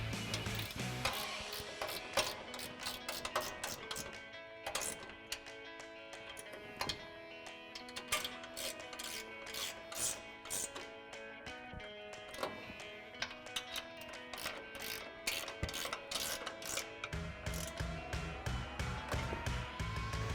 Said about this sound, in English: take a 17mm ratcheting wrench to tighten down our upper strut nuts